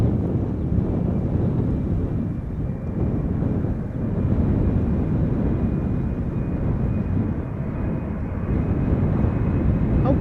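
An eight-year-old Embraer 190 airliner approaching Schiphol airport, a steady low rumbling engine roar with a faint high whine, constant and moderately loud for the whole stretch, mixed with wind noise.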